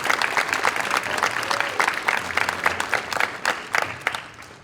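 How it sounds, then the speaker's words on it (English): A room of people applauds warmly at a Christmas band jubilee, the clapping steady and fairly close with distinct individual claps standing out. "give him a warm round of applause"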